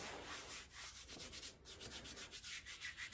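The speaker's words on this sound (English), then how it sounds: "Nice little rub, activate the glue." Kinesiology tape being rubbed down by hand onto belly skin after application for a belly sling, a close, steady series of soft brushing friction strokes with no talking.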